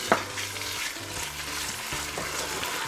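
Minced meat frying together with onions in a pan, a steady close sizzle with scraping stir sounds throughout and no talking.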